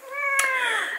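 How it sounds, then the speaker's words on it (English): Hungry house cats meow loudly and close by, one long rising-and-falling meow with a brief sharper cry partway through, no talking. "I'm gonna go sort these cats out because they probably want feeding."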